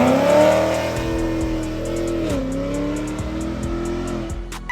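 A loud Ford Mustang pulling out of a car meet, its engine roaring steadily as it accelerates with tires squealing, close and sustained throughout.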